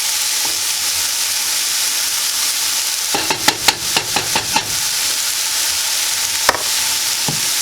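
Bacon slices reheating in butter in a pan give a steady close sizzle and frying hiss, with a burst of clattering stirring or scraping in the middle and a sharp knock near the end.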